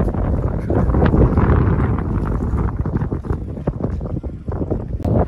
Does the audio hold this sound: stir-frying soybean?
no